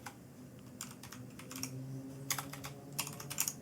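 Quiet, irregular keystrokes on a computer keyboard while a schedule name is typed, soft clicks in small clusters over low room noise.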